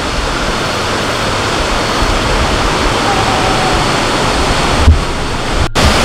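The Tanah Merah waterfall near Samarinda pours in a steady, loud, unbroken roar of falling water that fills the whole stretch, with a brief soft knock near the end.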